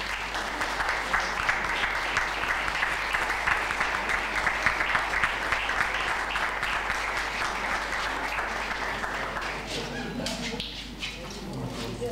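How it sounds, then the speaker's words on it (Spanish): An audience applauds a prize winner at a Spanish nativity-scene celebration, a sustained, even clatter of many hands clapping for about ten seconds before thinning out, with murmuring underneath. "Un fuerte aplauso."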